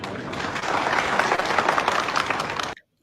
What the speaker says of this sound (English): I hope you can see as they're clapping for him